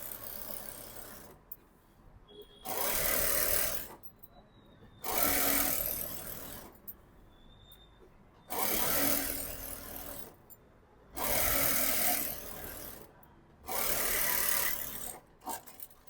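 A sewing machine runs in five steady bursts of a couple of seconds each, stitching a half-inch seam on straight-cut pants. Short quiet pauses separate the bursts, and the machine is close and clear with no talking.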